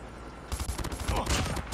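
Rapid M16 assault rifle gunfire in the mobile shooter Call of Duty Mobile, loud close bursts of shots in quick succession after a brief quieter lead-in.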